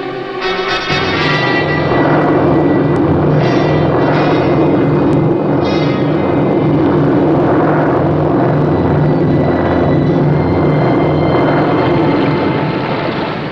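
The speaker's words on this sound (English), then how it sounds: "The Sea Devil went deep to escape detection by patrol aircraft." A steady, loud droning engine roar holds throughout with a low rumbling hum, like an aircraft passing overhead, no voices.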